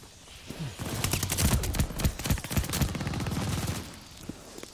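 A Bren light machine gun loaded with incendiary rounds fires in Call of Duty: Vanguard, rapid rattling bursts with sharp individual cracks, fairly close and loud for a few seconds before trailing off.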